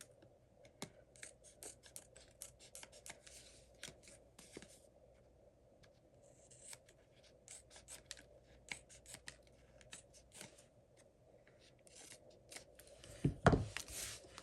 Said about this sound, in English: So I'm just going to cut off the extra overhang.